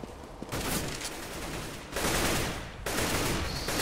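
Dense, sustained gunfire in the Counter-Strike match on the Inferno map, loud and continuous in long bursts with brief gaps between volleys.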